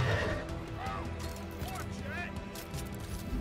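A donkey brays in the video game Deep Rock Galactic, with a series of wheezy, rising and falling calls over steady game ambience and voices talking.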